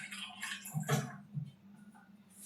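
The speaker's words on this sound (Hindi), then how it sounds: "और इसमें हम लेंगे पानी, थोड़ा सा पानी।" A little water poured into a small bowl in a home kitchen, a brief soft trickle and splash with a few gurgling drips, quiet and close.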